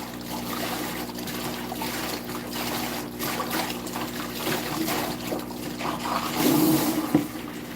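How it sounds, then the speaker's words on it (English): Steady water runs and trickles while sand is washed for work on a 510, with a louder gush of flow near the end and no talk. "Washing up some sand"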